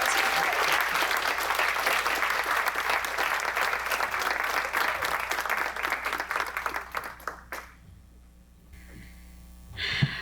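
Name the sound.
audience applause at a charity awards event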